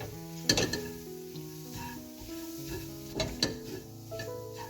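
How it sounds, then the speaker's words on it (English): A chicken cutlet mixture with coriander powder sizzles steadily as it is sautéed in a pan, with a few sharp utensil scrapes and knocks against the pan under low background tones. "Now let's saute this for only about 1 minute."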